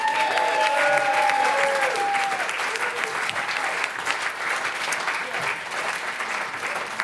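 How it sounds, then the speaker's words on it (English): Steady audience applause for a producer at an intimate cabaret show, sustained and dense throughout, with faint sung or spoken tones drifting over it early on. "Please give a round of applause for Alison Johnson."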